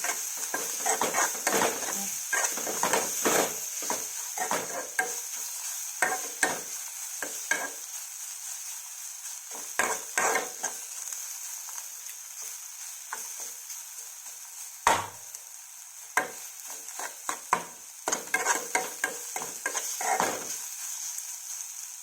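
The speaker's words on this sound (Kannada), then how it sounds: "ಸ್ವಲ್ಪ ಫ್ರೈ ಮಾಡಬೇಕು ಹಸಿಮೆಣಸಿನ್ಕಾಯಿ ಅಲ್ವಾ" Green chillies sizzle steadily in a hot pan while a spatula scrapes and stirs them in frequent irregular bursts, close and fairly loud, with no talking.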